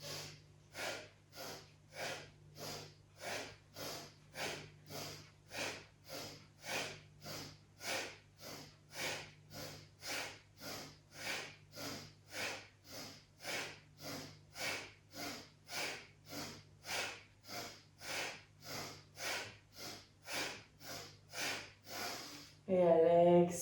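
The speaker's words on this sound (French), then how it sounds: "Votre souffle doit être dynamique, on doit l'entendre, votre respiration." Rhythmic, forceful breathing during a yoga twist exercise, about thirty quick audible breaths in an even pulsing pattern, close and alone, ending with a brief louder sound.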